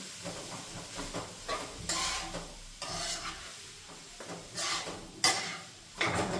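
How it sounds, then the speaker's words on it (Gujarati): Grated bottle gourd sizzles softly in hot ghee over a low flame while a spoon stirs it against the pan, making scraping bursts and light frying crackle close by with no talking. "ગેસની ફ્લેમ ધીમી નાખી અને આ રીતના નાખી દેવાની દૂધી"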